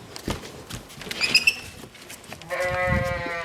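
Sheep on a farm, a close, wavering bleat near the end after a brief high cry and some shuffling, footsteps and small knocks, with no talking.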